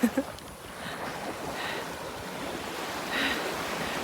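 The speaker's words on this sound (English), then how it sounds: "the sound of the waves" Ocean surf washing steadily onto the shore, a broad rushing wash that swells slightly near the end, with some wind noise.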